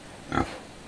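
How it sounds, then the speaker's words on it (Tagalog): A large pig on a rural farm gives a single short, close grunt in the middle of a brief, otherwise quiet moment. "dako baboy ni Naso."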